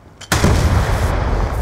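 A grenade goes off in Black Ops 2, Team Deathmatch on the Standoff map: a brief lead-in, then a sudden loud blast that holds as a dense, roaring rumble to the end.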